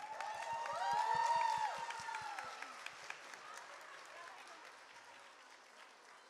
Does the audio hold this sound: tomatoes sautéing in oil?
no